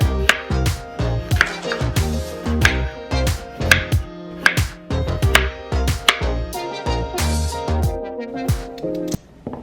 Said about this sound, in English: I'm also gonna do a sweet potato, but I'm gonna cube it this time